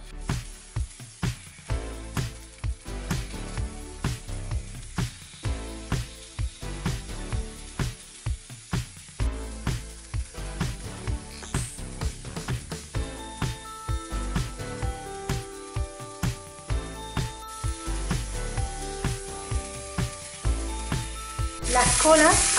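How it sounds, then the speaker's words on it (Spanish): Scorpionfish sizzles skin-down on a very hot griddle oiled with olive oil, a loud continuous frying hiss with crackles, accompanied by rhythmic tapping or scraping throughout. "Con la plancha bien caliente, marcamos el pescado primero con la piel hacia abajo."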